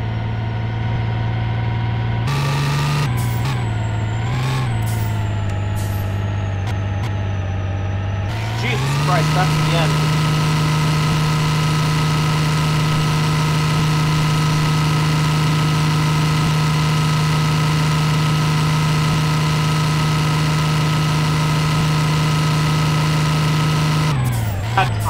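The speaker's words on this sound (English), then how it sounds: "I'm driving my semi truck." A semi truck engine in the Roblox game American Plains Mudding drones steadily and loud through a long stretch, with a brief shift in pitch early on, while a person talks over it at the start.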